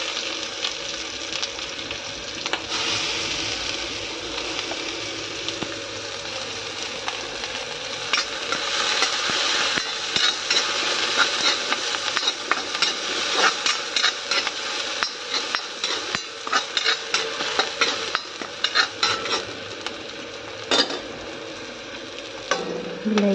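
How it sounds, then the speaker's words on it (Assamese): Chopped onion, chili, ginger and garlic sizzle and fry in leftover fish-frying oil, a steady close crackling hiss with frequent scraping stirs and spatula knocks, no talking. "মাছ ভজা তেলতে মই পিঁয়াজ জলকীয়াখিনি দি দিওঁ এতিয়া পিঁয়াজ জলকীয়া আদা নহৰু গোটেইখিনি"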